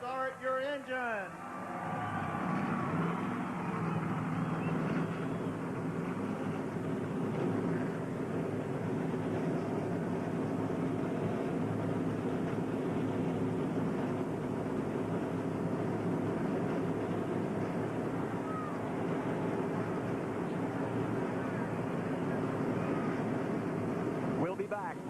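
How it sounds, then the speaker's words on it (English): Stock car engines fire up and roar together at the 1996 Busch Clash NASCAR race, a dense, steady rumble that holds loud for the whole stretch with a voice faintly under it. "Gentlemen, start your engine."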